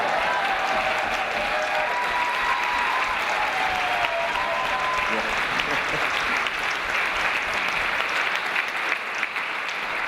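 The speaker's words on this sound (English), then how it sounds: "We can clap it up for Lacey" Applause at a congressional swearing-in ceremony in Hudson, a dense, steady round of clapping from a fairly large crowd lasting throughout, fairly close and sustained without pause.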